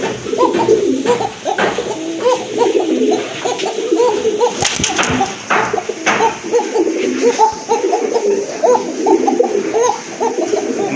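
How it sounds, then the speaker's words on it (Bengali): Fancy Koka pigeons cooing in a loft, repeated soft rolling coos from several birds close by, overlapping in a steady rhythm with light background rustling and wing flutters. "কোকা কবুতর, খুবই ভালো ডাকে"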